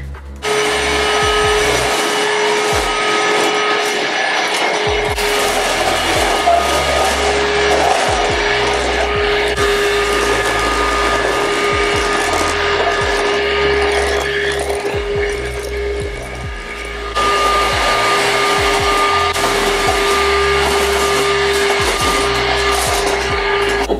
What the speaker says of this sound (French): L'aspirateur.